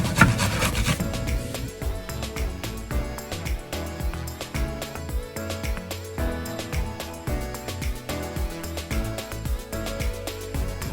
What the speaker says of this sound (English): He's gonna start grating